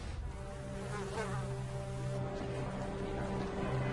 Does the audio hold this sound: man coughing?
no